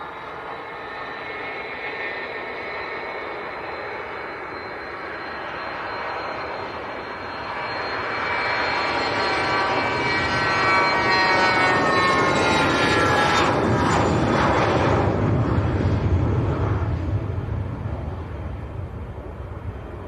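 A NetJets business jet at Leeds Bradford Airport roars steadily with broadband engine noise and whining tones, swelling louder around the middle as it powers up and passes, then holding a strong sustained rumble.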